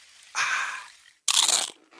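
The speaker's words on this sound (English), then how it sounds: "It's the crisp crunch of that first nacho chip." Two crisp, loud crunches of teeth biting into a nacho chip, heard close up and separated by a short pause, with nothing else around them.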